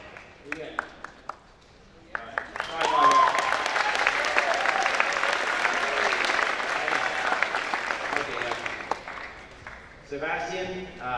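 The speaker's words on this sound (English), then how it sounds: "So give him a big applause." An audience at a high school military signing day breaks into a big round of applause for a student enlisting. A short spoken remark comes first, then a loud, sustained wash of clapping, and talking returns as it fades.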